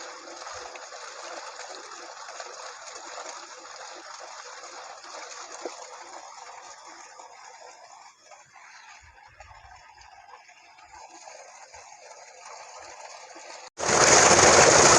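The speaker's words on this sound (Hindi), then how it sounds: "पानी का प्रेशर चेक कर सकते हैं।" Water gushes steadily from a DC mono block pump running on three 550-watt solar panels in a farm field, a continuous hissing rush that swells into a louder, fuller surge near the end.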